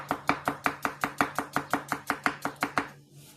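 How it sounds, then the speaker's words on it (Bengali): Onions being chopped with a knife on a board: a fast, even run of about sixteen crisp close chops, loud and steady, stopping abruptly near the end with no talk. "এই স্পিডে পেঁয়াজ কাটন"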